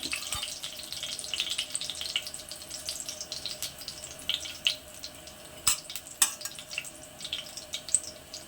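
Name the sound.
mustard seeds popping in a hot pan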